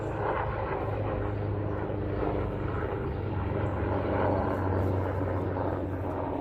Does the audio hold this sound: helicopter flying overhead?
yes